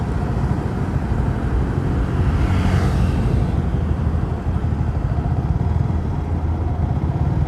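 A Yamaha R15 V3 motorcycle engine runs with a loud, rough low rumble, swelling slightly in the middle as if passing close by, then settling to a steady drone.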